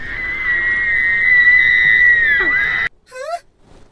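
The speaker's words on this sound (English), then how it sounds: "until he heard screaming" A scream sound effect in a narrated horror story: one loud, sustained, shrill cry holding for almost three seconds, then cutting off into a brief, shorter falling wail.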